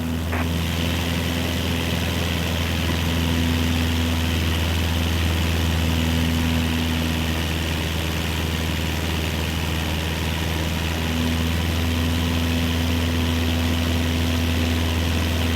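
Steady drone of a Cessna 172 propeller engine running at full power during a climb in Microsoft Flight Simulator 2024, a continuous loud hum with strong low tones, no talk.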